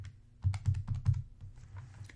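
Calculator buttons are pressed in a short burst of soft plastic taps, about half a dozen quick clicks close by, then a few fainter presses trailing off.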